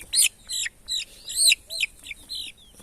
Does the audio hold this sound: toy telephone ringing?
no